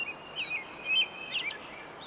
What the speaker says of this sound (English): Wow, the birds have got loud.